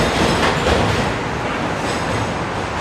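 A New York City W subway train rumbles past in Queens, a steady, loud, broadband roar of wheels and cars that holds from start to finish with no voices over it.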